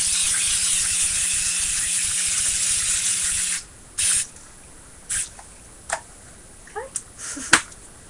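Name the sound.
spray can being sprayed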